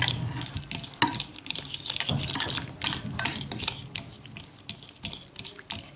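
Butter and garlic are stirred together in a bowl, producing close, irregular scraping and clinking strokes at a moderate level, with no talk.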